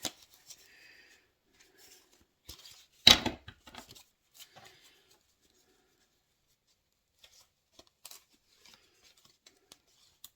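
A damp red tarot deck is shuffled by hand, giving scattered soft riffles and papery slaps, with one louder flurry of card handling early on and only faint, sparse taps afterward.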